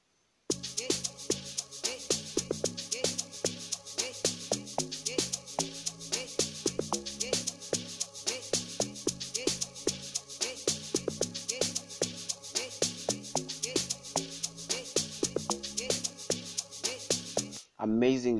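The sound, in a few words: amapiano log drum made in Caustic 3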